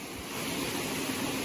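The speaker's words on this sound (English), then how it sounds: "This is an amazing little creek." A small creek along the Appalachian Trail flows with a steady, close rushing wash of water that stays even throughout, with no voices.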